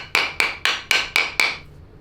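Six evenly spaced, sharp metallic hammer blows seat a bearing onto a mini bike crankshaft during a rebuild, each strike ringing briefly before the next, close and loud.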